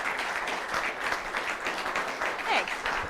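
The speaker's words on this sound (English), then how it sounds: "let's give her a round of applause" An audience at a small-business economic gardening forum claps in a short, moderately loud burst of applause, with voices faintly mixed in.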